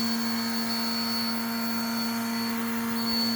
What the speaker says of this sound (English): Let's turn the vacuum on.